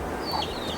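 Chickens cluck continuously in a short burst against steady outdoor background noise, near and fairly loud, with no talking.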